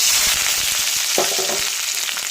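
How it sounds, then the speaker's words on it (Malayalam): Mustard seeds, shallots and dried red chillies frying in hot coconut oil make a dense, loud, close sizzle throughout, with a brief scrape of stirring partway through and no voices. "ചൂടായ വെളിച്ചെണ്ണയിലേക്ക് അല്പം കടുക് ഇട്ട് കൊടുക്കാം കടുക് കുത്തി കഴിയുമ്പോൾ ചുവന്നുള്ളി വറ്റൽമുളക് ഇവ ചേർത്ത് കൊടുക്കാം"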